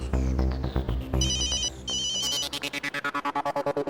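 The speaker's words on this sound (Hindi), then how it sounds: "अरे बाप रे, अंजलि, बॉस का फोन।" A phone ringtone plays on its own: a melodic electronic ring, then a run of quick repeated beeping pulses, moderately loud and close.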